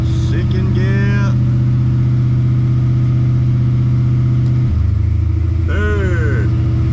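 A car with a TH350 automatic transmission accelerating through its gears, a loud close engine drone that drops in pitch at a shift, while someone talks over it.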